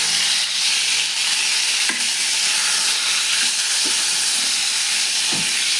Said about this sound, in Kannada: ಉಪ್ಪು ಹಾಕಿ ಇನ್ನು ತಳಗ ಮೇಲೆ ಮಾಡ್ಬೇಕು.